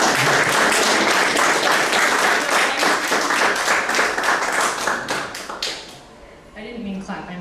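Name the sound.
audience clapping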